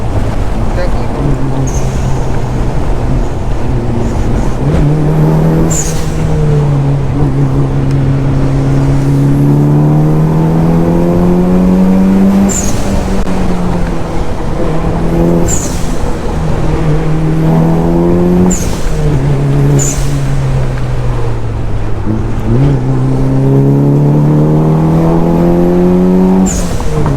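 A Mitsubishi Lancer Evo 9 revs hard on a dyno, the engine climbing in repeated rising pulls with sharp shift breaks and blow-off chirps between them, loud and close, with some wind-like noise.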